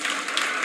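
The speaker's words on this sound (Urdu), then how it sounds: "تالیاں زور سے بجاؤ نا یار" Audience applause at the opening session of an Urdu literary conference at the Arts Council, a brief steady patter of many hands clapping, heard from a distance.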